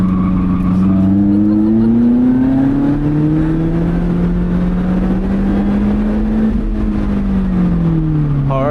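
A car's engine drones loudly from the cabin on a winding mountain road, its pitch sliding down under hard braking and rising again through the curve as the driver rotates through the corner.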